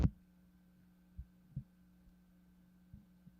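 A computer gives off a faint, steady low hum that runs the whole time, broken by a few soft, dull thumps.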